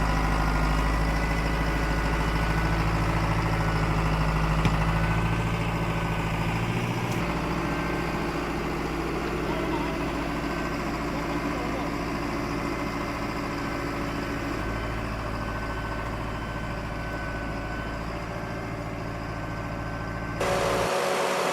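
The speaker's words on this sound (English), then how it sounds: "The Valtra forestry tractor powers through soaked terrain, where every wheel fights thick mud and tangled roots." A Valtra forestry tractor engine labours through soaked, muddy terrain, a steady heavy diesel drone lasting the whole stretch with a brief shift in tone near the end.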